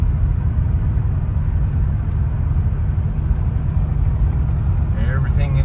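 A 1979 Lincoln Mark V driving, heard from inside as a steady low engine and road rumble that continues unchanged, with no talk over it.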